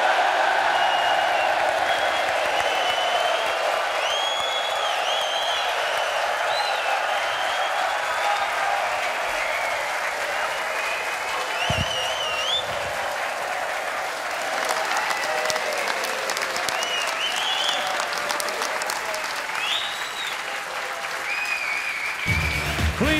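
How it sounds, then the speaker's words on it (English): At Alexandra Palace, a large snooker crowd applauds and cheers for the Masters semi-final, with dense continuous clapping and whoops that last throughout and are loud and full, and an announcer's voice comes in near the end. "It's time to hear that irresistible Ali Pali roar!"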